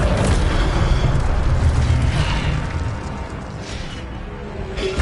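Incendio fire spell cast in Hogwarts Legacy, a dense roaring burst of fiery noise that is loudest at first, then eases to a lower, steady rush before swelling slightly again at the end.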